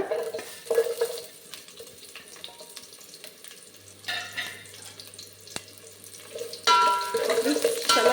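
Onion and curry leaves drop into hot oil for a dal tempering, bursts of crackling sizzle with stirring scrapes, quieter stretches between and a louder sputter near the end.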